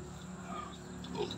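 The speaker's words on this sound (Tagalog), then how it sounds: "Medyo pusog po kasi ang baboy na yan sapagkat kakain na po nila ngayong umaga." Restless farm pigs wait for their morning feed, giving faint, low grunts and snuffles close by against a steady background hum.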